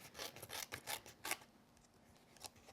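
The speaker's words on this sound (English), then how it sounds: "Holding your scissors at an angle helps you do that." Close, quiet snips and rasping cuts of scissors trimming paper, a quick series of strokes and then a single softer snip after a pause.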